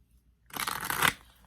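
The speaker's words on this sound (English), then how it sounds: "this is how I have to shuffle this deck" An oversized tarot deck shuffled by hand, one brief papery riffle of cards lasting about half a second, close and fairly quiet, with no talking.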